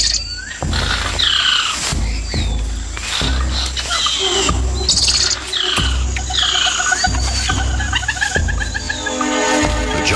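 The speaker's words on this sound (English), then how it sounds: "The squirrel monkey spots a harpy eagle and sounds the alarm, alerting everything in earshot" A squirrel monkey in the Amazon rainforest canopy gives repeated chirping alarm calls on spotting a harpy eagle. The calls ring out loudly over a dense, steady wall of jungle insects and birds, with soft thumps recurring underneath.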